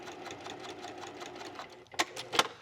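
A sewing machine stitches a seam with a rapid, even mechanical patter, fairly soft and close, then a couple of sharper clicks and thumps near the end.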